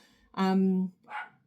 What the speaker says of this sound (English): Excuse the dog, sorry, someone's probably at the door.